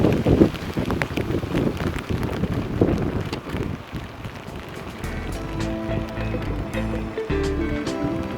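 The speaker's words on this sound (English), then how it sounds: "I kind of enjoy cycling in the rain." Rain hisses during a bike ride outdoors, mixed with gusty wind buffeting the microphone and rolling road noise; a steady tonal hum joins partway through.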